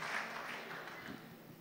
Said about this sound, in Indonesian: Tepuk tangan untuk Pak Gub dulu.